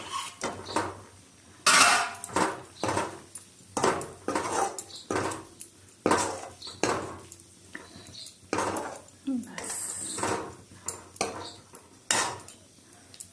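Boiled eggs go into a pan of dry egg curry and get stirred, giving a run of close clinks and scrapes of a utensil against the pan, with clattering dish and cutlery knocks throughout.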